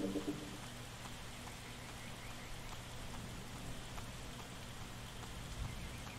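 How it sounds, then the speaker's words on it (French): Heavy rain pours down in the video game Starbound as a steady, even hiss of falling drops, fairly faint and uninterrupted, with no talking. "Une bonne averse en plus. Bien, pluie battante, très bon."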